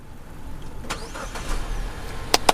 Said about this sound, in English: we're going to go ahead and start the vehicle